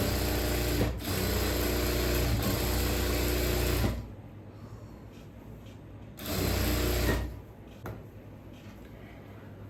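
A sewing machine double-stitches the sleeves onto a churidhar. A long burst of fast, rattling stitching is followed by a pause, then a second, shorter burst.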